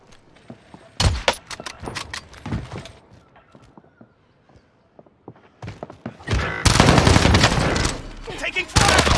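Gunfire in the Call of Duty Warzone video game on Rebirth Island: loud bursts of shots and impacts, with a quiet lull in the middle, then a dense sustained volley of automatic fire toward the end.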